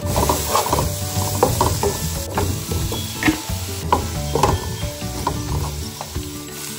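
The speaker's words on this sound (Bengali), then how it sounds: "এখন একটুখানি সর্ষের তেলের মধ্যে পেঁয়াজ দিয়ে দিয়েছি।" Sliced onions fry in mustard oil in a home kitchen pan, a continuous sizzle broken by repeated scraping and clinking of a stirring utensil, close and fairly loud, with no talking.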